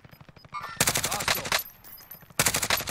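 Bursts of automatic gunfire from the video game Call of Duty Warzone come in two rapid volleys separated by a short gap. The firing sounds fairly distant and is mixed at moderate level with faint game noise between the bursts.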